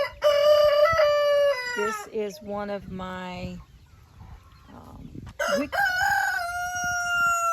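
Roosters crow loudly and repeatedly near a garden on a rainy day, long drawn-out calls overlapping one another, with a person briefly speaking between them.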